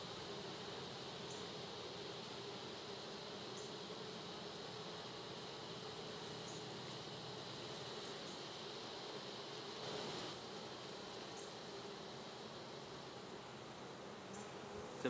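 Honey bees hum in a continuous, even drone from an opened hive box, fairly close and steady throughout with no voices.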